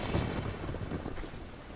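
Rain and thunder rumble through the Zelda: Ocarina of Time game world, a heavy low rolling boom over a steady hiss of falling rain, loud and continuous with no voices.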